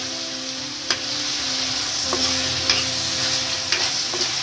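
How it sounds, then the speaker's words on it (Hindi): Peas and potatoes fry with spices in a hot pan for a spiced daliya khichdi, giving a steady close sizzle broken by a few sharp stirring clicks. "अब इसको थोड़ा सा 1-2 मिनट भूनेंगे मसाले के साथ में सब्जियों को"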